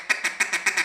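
Duck call blown in an aggressive ticka or dugga feeding style, imitating mallard feeding chatter: a fast, rhythmic series of short raspy clucks, about seven pulses in under a second, close and clear with no talk.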